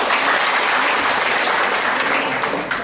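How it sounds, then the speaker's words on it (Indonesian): Loud applause from the audience at the inauguration of a new regional hospital building, a dense, even wash of clapping that holds steady throughout and eases slightly at the close. "Tepuk tangan yang keras."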